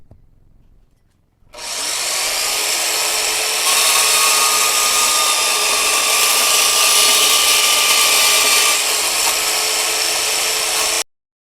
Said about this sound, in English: I did just cut this little arc out on a bandsaw